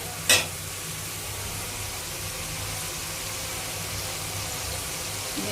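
Seafood fried rice stirred in a pan over steady frying hiss, with one sharp metallic clank at the start and a faint scrape near the end, no talk.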